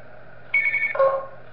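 A telephone rings in the horror video game Tubbyland, giving a short, loud two-tone electronic ring that falls in pitch partway through, heard alone.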